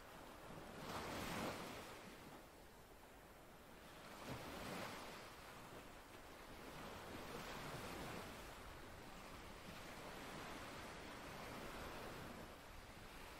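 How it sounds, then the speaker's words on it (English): Ocean waves break steadily on a black sand beach below a cliff wall, the surf swelling and receding in broad rolling surges under a constant wind rush, with no voices. "You sit down a small distance away from the breaking waves."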